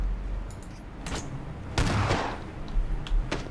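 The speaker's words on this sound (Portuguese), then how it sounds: "E tô ouvindo tiro pra caralho." Gunfire from the battle royale game PUBG sounds as a scattered series of sharp, distant shots and bursts over a low background rumble, irregularly spaced across the stretch.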